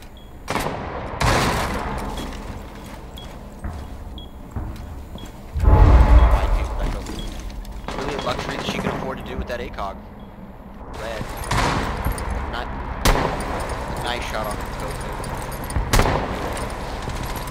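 Scattered shotgun blasts and SMG bursts from a competitive video game match crack out at intervals, some sharp and near, others fainter, over low commentary and game ambience.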